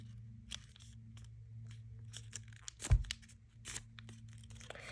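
Paper is folded and creased for an origami ninja star, giving soft crinkles and scrapes up close, with one louder crunch partway through in a quiet room.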